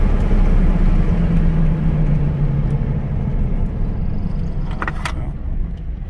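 A car engine idles steadily after a fuel pressure repair, a close, even rumble holding constant, with a brief metallic jingle near the end.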